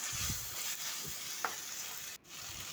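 Chopped tomatoes sauté in a pan for a raw banana curry, giving a soft, steady sizzle with faint stirring scrapes close by.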